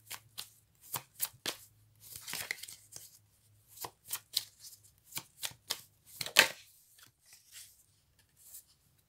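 Tarot cards are shuffled and drawn in a quiet room, with close, crisp riffling bursts and sharp snaps in an irregular rhythm and silent pauses between.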